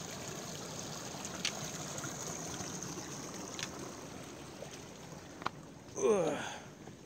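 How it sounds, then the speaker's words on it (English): A stream on the Appalachian Trail flows with a steady, soft rushing wash, faint and continuous, broken by a few small ticks and a brief rustling swish near the end. "This bad boy's pushing some water out."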